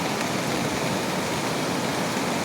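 A river in barangay Mayantok near Baguio rushes past in a constant, dense roar of flowing water, loud and unbroken throughout.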